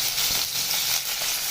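Onions sizzling in hot oil with mustard seeds, cooking for a Tamil lentil curry; a steady, bright crackling fry, close and continuous, with no talk.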